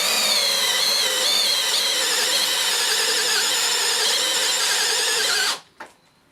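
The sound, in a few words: Dewalt Powerstack hammer drill with 68mm hole saw, high gear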